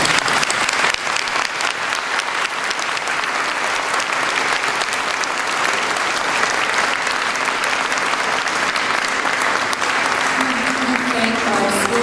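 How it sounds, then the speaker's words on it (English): Continuous, dense applause from the audience at a city council candidate forum in a high school, holding steady and loud from start to finish with faint voices mixed in. "Now you may applaud."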